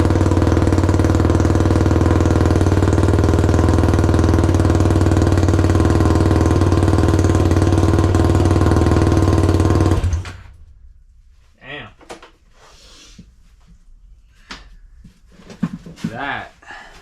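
Motorcycle engine fitted with a carbon fiber HMF exhaust, not yet fully bolted down, runs loud and steady with a deep rumble for about ten seconds, then cuts off abruptly, leaving scattered handling noises and brief voice sounds.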